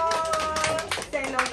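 Hands clapping at a child's birthday party, a few uneven claps over a short stretch, with people talking and calling out over them close by.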